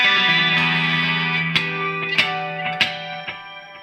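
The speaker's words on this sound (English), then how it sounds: "I've got some compressor on that, again with an analog effects unit, and I left in your chorus and delay." An electric guitar plays sustained clean chords through an ENGL amp's clean channel with compressor, chorus and delay, followed by a few sharp picked notes that ring out in a shimmering, echoing wash.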